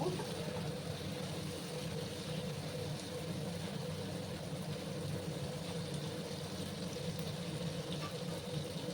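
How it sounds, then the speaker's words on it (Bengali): Pointed gourd and potato pieces frying in a pan give a steady, low, continuous sizzle with a broad bubbling hiss, even and unbroken throughout with no talking. "একটু লাল করে আমি পটলগুলোকে আর আলুগুলোকে ভেজে নেব।"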